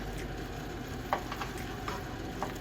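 A spoon stirs cheese into potatoes in a pan, giving a few soft, scattered scrapes and clicks over a faint steady background hiss.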